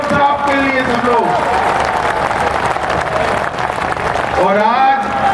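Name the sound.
crowd applauding loudly at a rally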